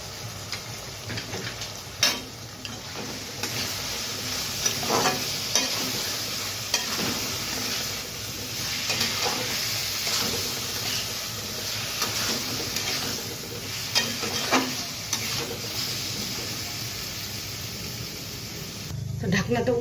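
Ground cumin, coriander and Kashmiri chilli powder fry in a pan for potato and papaya dalna, a steady sizzle with repeated scrapes of stirring throughout, close and moderately loud.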